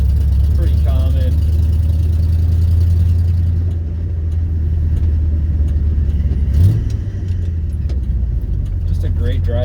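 A 1971 Ford F250 Highboy truck engine idles with a deep, steady low rumble and a slight bounce, close and continuous, under someone talking.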